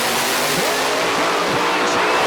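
An Outlaw 10.5 drag race pairs a ProCharger-supercharged Mustang against a nitrous car in the final qualifying round at the Yellow Bullet Nationals. Their engines give a loud, sustained roar, with a commentator talking over it.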